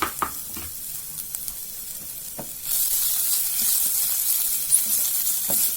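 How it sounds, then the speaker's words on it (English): Garlic hits a hot pan and sizzles in a steady, soft crackling hiss that swells after a few quiet seconds, with a few light stirring clicks early on. "So that sizzle a bit."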